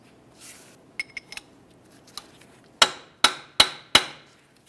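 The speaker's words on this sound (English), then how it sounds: "Use a hammer and punch directly in the center here to break the axle free from the wheel bearing." Some light taps, then four sharp, ringing metal hammer blows on a punch freeing a Nissan Altima axle from its wheel bearing, in quick even succession, close by, each decaying briefly.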